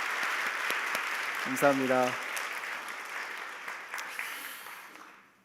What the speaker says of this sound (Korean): 우리 힘차게 우리 환송의 박수